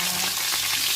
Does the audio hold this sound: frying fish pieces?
yes